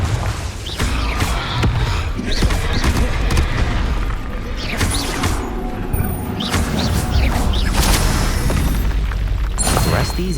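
Fiery Confringo curse blasts from Hogwarts Legacy, a series of loud booming explosions and crashing impacts over dense game effects, with a voice calling out spells.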